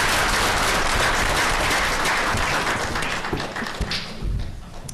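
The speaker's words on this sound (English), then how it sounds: "So I just want to give them all a round of applause for their hard work." A room at a Fishkill town board meeting breaks into applause for volunteers, a dense, even wash of clapping that holds steady before thinning out toward the end.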